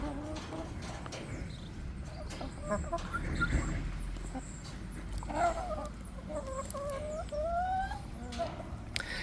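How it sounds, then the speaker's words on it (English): Chickens and a rooster calling outdoors on a tobacco farm, with clucks and crowing-like calls scattered over steady background noise and faint voices. "Mira que gallo más lindo."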